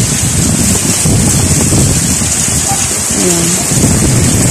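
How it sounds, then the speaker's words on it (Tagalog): Strong typhoon wind blowing hard with rain, a dense continuous roar buffeting the microphone, with a brief voice heard. "sobra talagang lakas ng hangin kanina pa"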